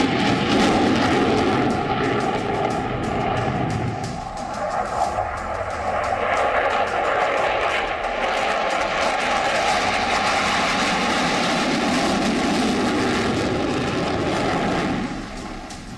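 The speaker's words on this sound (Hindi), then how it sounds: "जब ये लड़ाकू विमान आसमान में हिचकोले खाते हैं तो दुश्मनों की धड़कनें तेज हो जाती हैं।" Indian fighter jets flying overhead produce a loud, sustained roar that fills about fifteen seconds, swelling and shifting slightly in tone before easing off at the end, with no voices.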